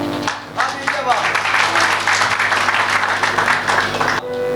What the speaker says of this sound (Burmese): လက်ခုပ်ပြီးအားပေးကြပါ